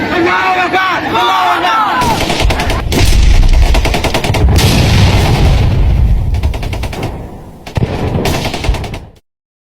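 Gunfire bursts fill a film battle scene on a beach in which Dutch troops open fire, loud rattling volleys over shouting voices and crowd noise, fading out near the end.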